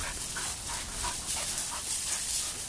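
Puppies pant quickly and let out soft, high whimpers, small yips rising over a steady breathy background, close by.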